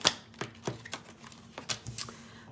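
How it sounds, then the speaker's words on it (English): A new tarot card deck is shuffled close by, giving sharp riffling snaps and crisp flicks in irregular bursts over a quiet room. "Sorry if the shuffling is loud. This is a newer deck."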